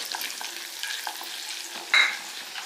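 Finely chopped ginger sizzles lightly in a pan, a soft close hiss with faint scraping as it is stirred and one bright metallic clink of the spoon against the pan.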